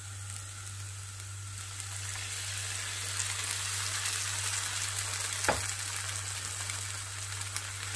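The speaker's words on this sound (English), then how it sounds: "Now it's time to add your egg" An egg sizzles in a pan with vegetables for egg fried rice, a steady close crackling hiss over a low hum, with a single brief scrape partway through and no talking.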